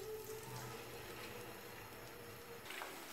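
Battered cauliflower pakora frying in hot oil gives a continuous, even sizzling hiss, faint and steady with no talk.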